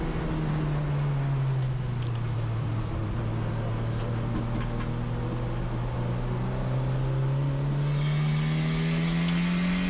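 A car at racing speed on a track, its engine holding a loud, steady drone with a slowly rising and falling pitch throughout, close and continuous with no talk.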